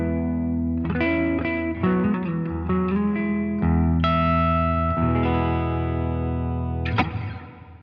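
An electric guitar plays a clean tone through a Line 6 Helix using the Litigator amp model with Ganymede reverb. Chords and single notes ring out clearly, loud and close, with sustained tails and no talking.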